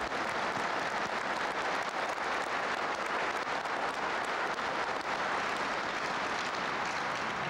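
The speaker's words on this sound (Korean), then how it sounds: "감사의 박수를 보내고 싶습니다." A large audience at a formal speech in 2000 after the inter-Korean summit applauds in a dense, steady wash of clapping that holds evenly throughout, with no voices over it.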